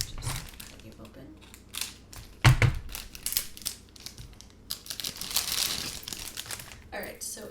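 Cutting open a plastic package holding a chain necklace, close crinkling and snipping with a sharp clack partway through, then more rustling plastic, under occasional soft talk.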